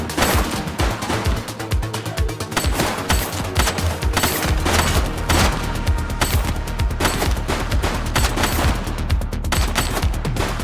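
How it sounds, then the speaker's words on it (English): A suspect firing a gun in the police video game The Precinct: rapid, dense bursts of shots hammer continuously, loud and close, with deep thumps underneath. "She's shooting!"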